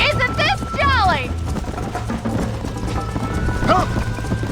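Horse hooves clip-clop at a riding pace in the Red Dead Redemption video game, steady and fairly close, with a man's speech over the start and music or ambience running underneath.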